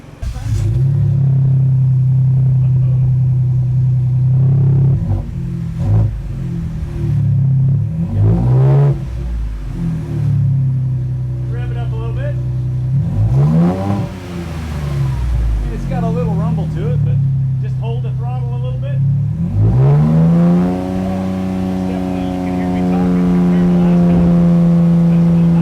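A 2023 Ford Bronco Badlands fitted with an AWE exhaust idles with a deep, steady rumble and is revved several times, each rise and fall loud and close, with people talking between revs.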